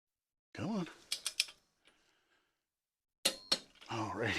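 A torque wrench clicks as it sets while tightening bolts on a Harley EVO engine, sharp metallic clicks in small clusters between pauses and handling noise, with someone speaking briefly between them.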